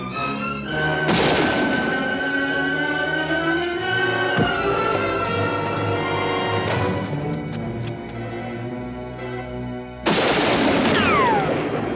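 Gunshots from the 1956 western The Last Wagon: a sharp crack near the start and another loud report later, set within a dense film soundtrack of music and effects.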